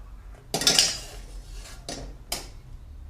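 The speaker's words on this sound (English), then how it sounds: "I'm going to spoon a bit of my ruby glaze from the tin" A spoon scrapes and clinks against a tin while scooping out ruby glaze, with a louder burst of metallic scraping followed by two shorter clinks in a quiet room.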